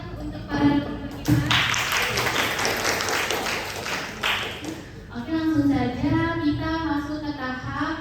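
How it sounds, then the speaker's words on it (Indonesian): An audience breaks into applause for the featured speakers at a live talk event. The clapping swells in the middle and fades into voices speaking over it. "Boleh tepuk tangan untuk para narasumber kita."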